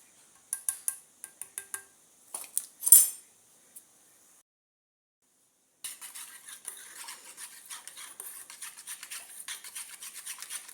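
A spoon mixing cornstarch into a homemade hair mask in a small bowl: quick light clinks and taps first, then a pause, then soft steady scraping and stirring, close and quiet.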